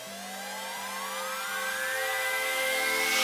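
A steady mechanical whine with a rising pitch sweep from a helicopter near Shroud Cay, Exumas, growing slowly louder across the clip with a low rhythmic hum beneath.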